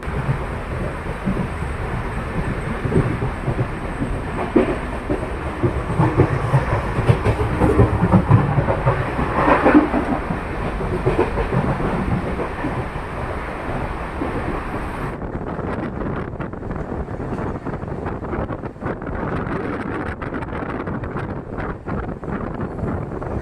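A lightly occupied passenger train runs between Yesvantpur and Chikkaballapur with a steady rolling rumble, faint rhythmic wheel clatter and wind buffeting, continuous and close throughout, easing somewhat toward the end.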